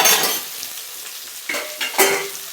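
Tomatoes sauté in a pan for a dry duck curry. A sizzle fades to a low hiss, broken by three sharp stirring scrapes near the end, with no voices.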